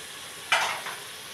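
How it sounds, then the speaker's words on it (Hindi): Aloo gosht with turmeric and salt gets stirred in a frying pan, a steady low sizzle broken by one brief, close scrape of the spoon through the pan. "और अब इसको अच्छे से भूनेंगे हम।"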